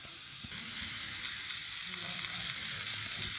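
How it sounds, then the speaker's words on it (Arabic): Mushrooms and onion sauté together in a pan for a shrimp and mushroom spaghetti, a dense, close sizzle with occasional stirring clatter and no voices. "الفطر والبصل أحمسهم زين لحد ما يستوون"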